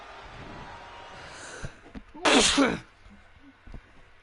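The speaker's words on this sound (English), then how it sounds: "Random sneeze." A single loud, sharp sneeze bursts out against a quiet, low background murmur, followed by faint small noises.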